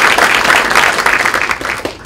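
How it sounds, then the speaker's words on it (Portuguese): Loud, close applause from a keynote audience at Azure Summit Brasil 2013 as a guest is called to the stage. A dense, busy patter of many hands fills the whole short burst. "uma salva de palmas."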